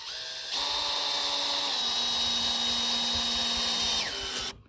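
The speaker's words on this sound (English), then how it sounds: "But now we need to screw it in" A power drill runs in one sustained, close burst of about four seconds as it drives a screw, its whine stepping slightly in pitch partway through before it winds down and stops.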